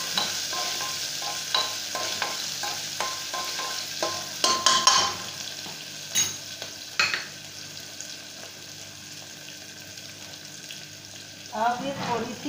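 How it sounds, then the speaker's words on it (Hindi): Khichdi with chopped capsicum and chili is stirred in a pan on a gas stove, giving a steady sizzle with scraping spoon strokes, the loudest clatter near the middle and a short burst of voice at the end. "उनको अच्छे से हिला देती हूँ।"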